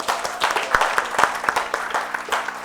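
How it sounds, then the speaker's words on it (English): An audience at a speech festival opening ceremony in Grenada claps, a moderately sized crowd producing uneven, rhythmic bursts of applause, close and fairly loud, for a few seconds. "Give yourself a round of applause."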